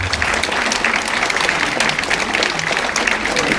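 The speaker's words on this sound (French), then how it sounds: "Vous pouvez l'applaudir." Audience applause at a New Year's address given by a deputy of the Var, steady and dense clapping from a large crowd filling the room for several seconds without pause.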